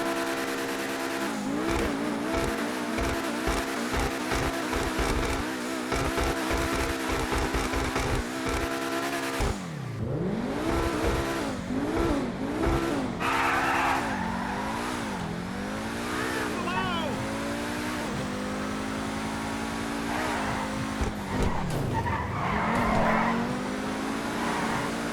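Supercar engine sounds from GTA Online, with loud revving that rises and falls through gear changes, then tires skidding and squealing in long swooping sweeps; continuous and close, with no talk over it.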